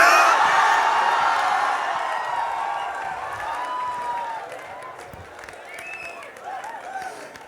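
Audience applause at a comedy show, loud and dense at the start, then slowly thinning into lighter clapping with scattered whoops and voices from the crowd.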